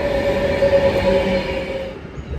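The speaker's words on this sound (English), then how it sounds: "we're starting here with a very noisy Pendolino" A very noisy Pendolino electric train running through a British station, a loud sustained rumble with a steady high whine and rail noise that eases off toward the end, no voices.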